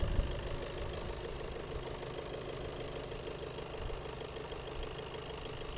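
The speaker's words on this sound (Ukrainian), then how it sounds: "двигун працює все красиво" A 2019 Skoda Octavia A7 facelift car engine idles steadily nearby, a low, even, slightly knocking hum that holds constant throughout with no voices.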